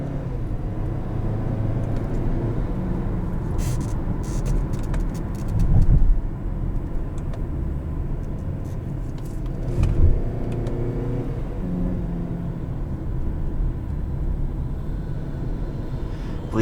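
A 2021 Kia Sportage S Nightfall Edition with a 6-speed automatic is driven under paddle-shift control, its steady engine and road drone filling the cabin with brief louder swells near the sixth and tenth seconds.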